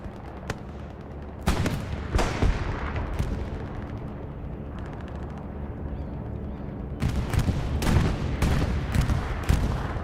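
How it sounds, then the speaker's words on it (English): A bombing run in the console war game Hell Let Loose lands as heavy explosions and crackling blasts, in a cluster early on and a bigger barrage near the end, over a steady battlefield rumble. "See how this bombing run does?"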